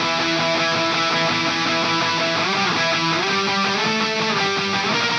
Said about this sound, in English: we have an octave part that goes on top of the rhythm guitars that sounds like this.